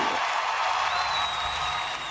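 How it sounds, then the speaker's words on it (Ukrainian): Audience applause rises in a dense, even wash of clapping, steady and fairly loud across the whole stretch, with a thin tone sliding through the middle. "Оплески!"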